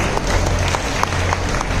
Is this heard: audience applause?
yes